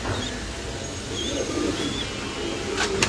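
Pigeons, including Dragon breed birds, cooing softly in a loft, a few low throaty coos with faint chirps and light rustling nearby.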